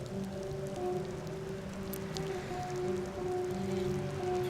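Steady rain falls onto a roadside surface, a continuous close patter of drops with a few brighter splashes, heard alone throughout.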